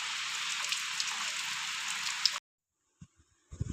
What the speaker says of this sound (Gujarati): મિત્રો એક ધારો આવા નવો વરસાદ પડી રહ્યો છે